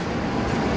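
A train passes at Jatinegara station, a brief, steady, loud rumble of rolling rail noise with no talking.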